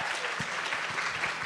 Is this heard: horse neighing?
no